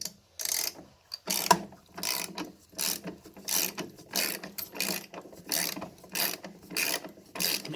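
A ratchet wrench loosens hydraulic line bolts on a John Deere 4110 tractor, giving about a dozen crisp, evenly spaced clicking strokes, close up and alone.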